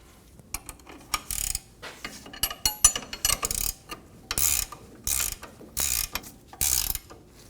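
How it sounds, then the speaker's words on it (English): A ratchet snugs up a rear lower control arm bolt on a 2019-2025 Ram 2500. Close, crisp bursts of rapid clicking repeat in quick strokes with brief pauses between them. "Get the bolt nice and snug."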